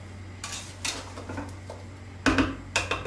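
Spoon stirring boiling peach jam in a pot, giving a few separate scraping knocks against the pot over a low steady hum, the louder strokes coming late.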